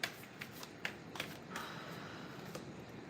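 A deck of tarot cards shuffled by hand, a run of soft riffling snaps and papery flutters in quick bursts, close and quiet with no talking.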